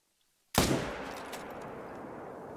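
A single sharp .300 rifle shot in a European bison hunting video game, cracking out of silence and trailing into a long, fading echoing decay.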